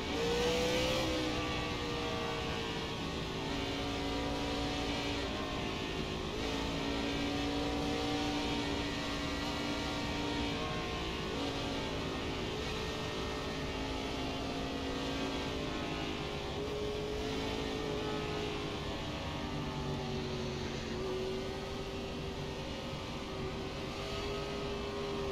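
Several race car engines in an oval racing game at Indianapolis Motor Speedway, a continuous loud whine rising and falling in pitch as cars pass, with no voices.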